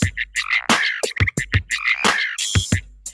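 A pickerel frog's croaking call blended with a remixed northern mockingbird song, heard as loud, choppy bursts of rhythmic croaks and bright whistled phrases packed closely together.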